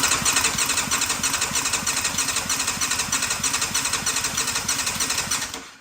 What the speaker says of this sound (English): we were able to get the bike running